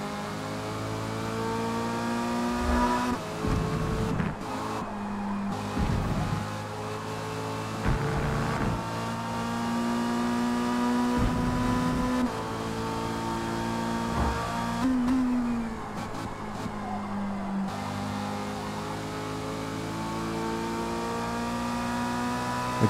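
Race car engine in Forza Motorsport, revving and shifting steadily through a lap on worn tires, with rising and falling pitch, brief downshift blips and braking dips, loud and continuous throughout.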